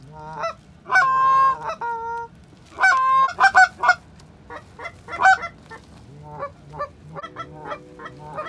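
Geese in flight honking repeatedly in bursts, loud and close overhead, with overlapping calls from several birds and brief pauses between volleys.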